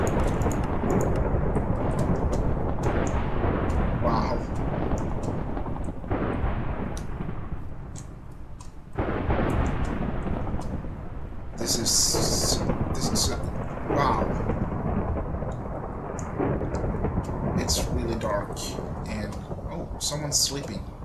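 Nighttime thunderstorm in Minecraft: steady heavy rain with rolling thunder crashes across the stretch, while a voice talks over the weather much of the time.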